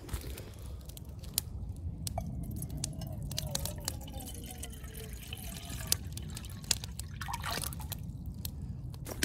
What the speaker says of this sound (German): Unterdessen leeren wir jetzt das Wasser ins Becken rein, dass wir das zum Kochen bringen können.